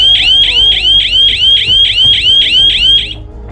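A DIY motion sensor alarm siren blares close and very loud, a rapid repeating electronic whoop pulsing about three times a second, then cutting off abruptly near the end and leaving a quiet room.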